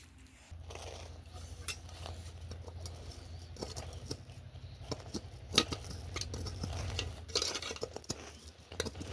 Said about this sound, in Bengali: তো চামচ দিয়ে ভালো করে এই যে ধারগুলো নিচেগুলো ছাড়িয়ে দিচ্ছে।